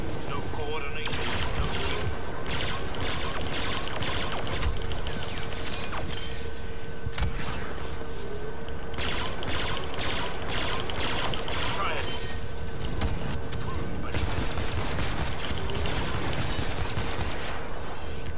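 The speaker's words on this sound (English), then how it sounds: "my rocket barrage glitched out and shot way more rockets than usual" Boba Fett's rocket barrage in Star Wars Battlefront 2, glitching into far more rockets than usual: dense, continuous mechanical whooshing and clattering bursts of launches and blasts run loud for the whole stretch amid heavy game noise.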